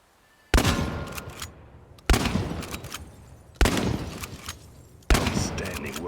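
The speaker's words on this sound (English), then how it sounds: "The shotgun has considerable spread, so you may as well leave your glasses at home" Shotgun blasts in the game ChernobyLite: four heavy booming shots fired at a steady, unhurried pace. Each shot rings out loud and close, then trails off in a long decaying tail before the next.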